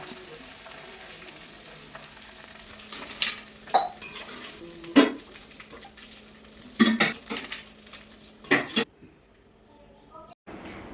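Jackfruit chips deep-frying in hot oil, with a steady background sizzle broken by louder metallic scraping and clattering as the pieces are stirred and scooped out, close and fairly loud.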